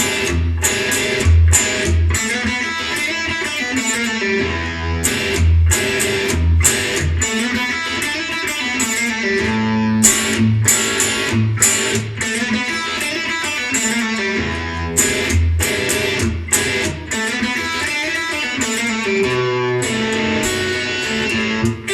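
An electric guitar plays a fast intro riff at a slower pace. Clipped, rapid single-note runs are broken by short staccato stops and bass-string hits, loud and close throughout with no voice.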